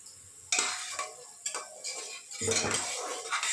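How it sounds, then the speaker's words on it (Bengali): Spice paste being stirred and sautéed in a pan for a chickpea and potato curry, with repeated close metal spoon scrapes and clanks against the pan over a soft sizzle, no talking. "এই মশলাটা কষিয়ে নিচ্ছি"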